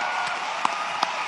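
An evangelical crowd at a Donald Trump speech cheers and applauds, a steady wash of clapping with a couple of sharp individual claps standing out, heard at moderate distance.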